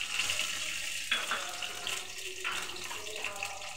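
Water is poured into a pan of fried onions and prawns, and it splashes and hisses briefly. A few sharp sizzling bursts follow over a soft background.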